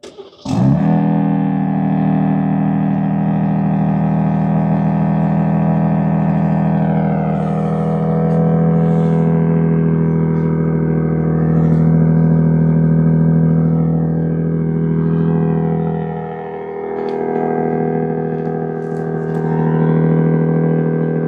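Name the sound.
cold start of a 2025 Ram RHO truck engine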